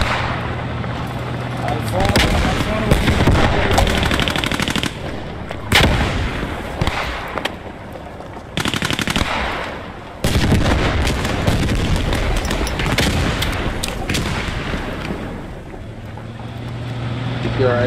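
Grenade blasts and gunfire in the WWII shooter Post Scriptum, loud repeated bursts and broadband booms across the whole stretch, with wind-like rumble beneath and players talking over the battle.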